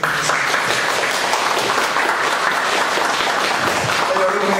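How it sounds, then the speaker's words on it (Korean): A church congregation claps together in a dense, continuous burst of applause that stays loud and even throughout, with no voices on top. "우리 하나님께 영광의 박수 드립니다."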